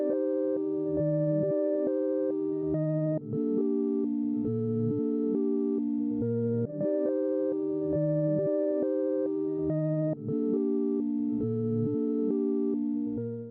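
A reversed melody sample built on a one-five chord progression plays loud and steady, with swelling backward-sounding chords that repeat in a loop roughly every three and a half seconds and no voices.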